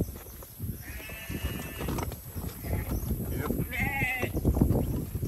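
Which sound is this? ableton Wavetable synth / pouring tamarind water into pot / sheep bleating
sheep bleating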